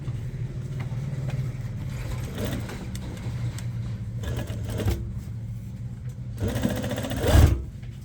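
A sewing machine stitching lace onto a dupatta runs in steady rapid mechanical chatter, close and fairly loud, with brief pauses and bursts as the fabric is moved and a clunk near the end.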